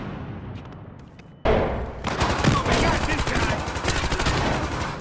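Video game gunfire in Battlefield Hardline: a quiet stretch, then a sudden loud burst of rapid shots that keeps going as a dense, continuous volley with thumps.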